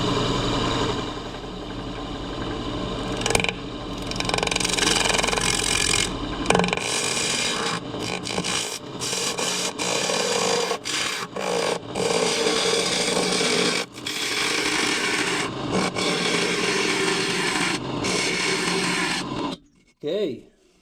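Wood lathe spinning a kiln-dried segmented dish at 1200 RPM while a tool flattens the bottom, a steady close scraping and whirring rumble with someone talking over it throughout.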